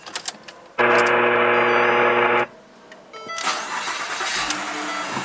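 A 2010 Ford Fusion 3.0L engine cranks loudly for under two seconds just after a spark plug change, pauses, then catches and settles into a smooth, close idle.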